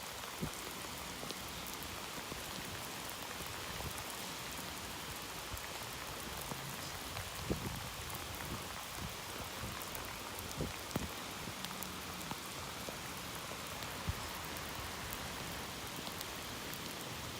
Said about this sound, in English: it's pouring rain out here.